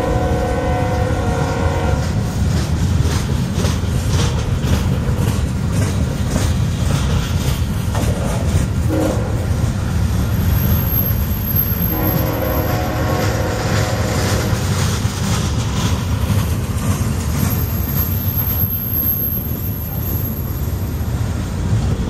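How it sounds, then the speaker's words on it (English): A long eastbound Union Pacific manifest freight train with five engines rumbles past close by in a loud, steady roar of wheels and engines, with horn-like tones rising now and then. "The 5-engine train."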